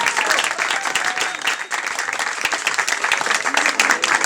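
Loud, close crowd applause for a newly graduated pastry chef at a gathering in Salazie, Réunion, a dense and continuous clapping that stays strong across the short stretch.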